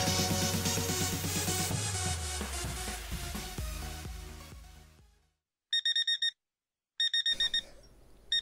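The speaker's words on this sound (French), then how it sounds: "Oh putain, il y a le réveil." An alarm clock in the video game Farming Simulator 17 rings in bursts of rapid electronic beeps, two clear pulsed sets after a fading music passage, loud and alone with no talking.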